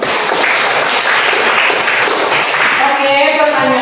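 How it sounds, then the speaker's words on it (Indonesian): A crowd applauding at an Indonesian church gathering, loud dense clapping that fills the space continuously, with a voice rising over it near the end. "Ya, tepuk tangan dulu untuk."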